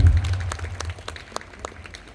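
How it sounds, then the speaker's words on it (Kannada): Ceremony audience gives brief applause, a thin, loose patter of clapping over low room rumble that trails off within two seconds. "ಜೋರ ಚಪ್ಪಾಳೆ ಬರಲಿ ಅವ್ರಿಗೂ."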